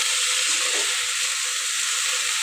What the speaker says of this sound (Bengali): ধনে পাতা দিয়ে একটা লাড়াচাড়া দিয়ে কিন্তু নামিয়ে ফেলবো ভাজি আমার হয়ে গেছে